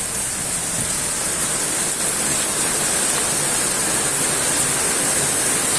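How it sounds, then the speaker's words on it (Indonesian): Heavy rain pours down steadily around a motorized becak, a dense, loud, unbroken hiss that fills the whole stretch with no pauses. "Mengingat ini hujannya gede banget ya."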